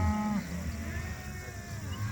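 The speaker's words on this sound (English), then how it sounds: "a little over 300 mama cows" A herd of beef cows grazes on summer pasture; a short, low moo opens the moment above a steady, broad outdoor rumble of field and wind noise.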